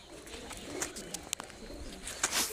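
Pigeons in a village coo softly and flutter nearby, with low repeated calls and a few sharp wingbeat-like bursts over faint background noise.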